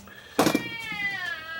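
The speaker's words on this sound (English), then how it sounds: "This is my noisy cat." A pet cat meows indoors, one loud close meow followed by a long drawn-out wavering cry that trails off, with a short burst of noise at its onset.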